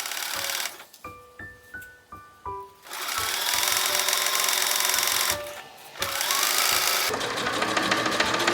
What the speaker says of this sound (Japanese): ファスナーに沿って中表に合わせて縫い付けよう。